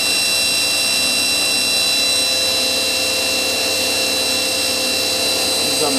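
The sub spindle of a Hanwha ML 12 CNC Swiss lathe runs at 6,000 RPM, heard close up as a loud, steady, high-pitched mechanical whine with constant tones and no pauses.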